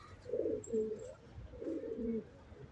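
Pigeons coo inside a newly built pigeon coop, two rounded low cooing phrases rising and falling close by, with faint chirps above and no talk.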